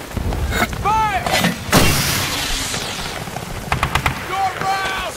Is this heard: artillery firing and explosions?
yes